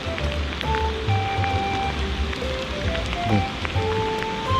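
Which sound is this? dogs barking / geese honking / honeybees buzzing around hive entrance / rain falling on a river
rain falling on a river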